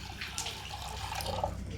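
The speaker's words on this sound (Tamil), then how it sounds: "தேவையான அளவு ஃபஸ்ட்டு தண்ணி ஊற்றிங்க" Water is poured into a cooking pot for sambar, a faint, steady splashing trickle with soft bubbly drips, quiet and close, with no talk.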